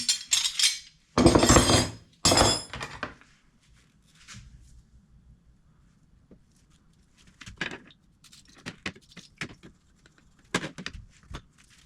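Vintage rusty, loose salvaged wrenches clink and clatter as they are handled, with loud metallic bursts at the start and lighter scattered clinks afterward.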